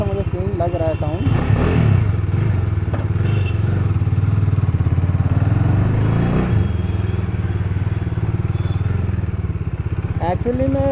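A Bajaj Dominar 250 motorcycle engine thrums loudly and steadily while riding, with a couple of brief revs rising and falling along the way.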